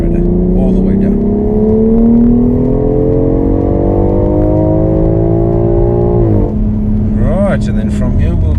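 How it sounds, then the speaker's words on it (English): A BMW X3 M Competition accelerating at full throttle on Kyalami Circuit, engine note rising steadily in pitch through a long pull before a gear change, loud and close inside the cabin. "And now unwind and on the accelerator. All the way down."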